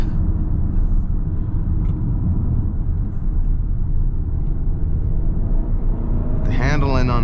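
A 2022 Kia Sorento X-Line EX AWD cruises on a highway, giving a steady, loud road and engine rumble with tire roar from start to finish, and a brief voice near the end.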